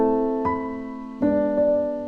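Dry piano playing a short melody with no added processing, clean sustained harmonic notes struck in a slow, sparse rhythm, close and clear with no other sounds.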